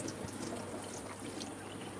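Water running steadily from a tap in a fishroom for a quick cleaning job, a faint continuous rushing stream with no speech over it.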